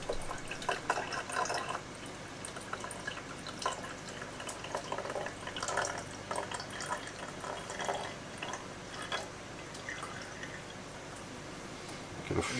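Liquid is poured in a chemistry titration, giving a soft, continuous trickling and splashing that rises and falls in waves over about twelve seconds, fairly faint and close, with no speech.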